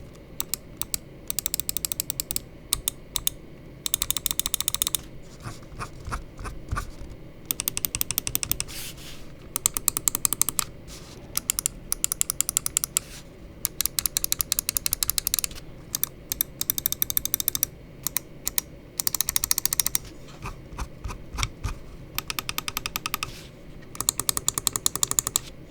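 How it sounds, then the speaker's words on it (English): Gravastar Mercury M1 Pro and M2 gaming mice are clicked in rapid, crisp bursts, groups of fast tapping clicks separated by brief pauses, close and alone without any talk. "let's go ahead and drop a click test of the M2 and the M1 Pro"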